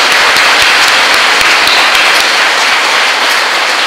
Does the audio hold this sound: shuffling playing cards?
no